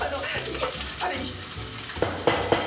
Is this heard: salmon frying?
yes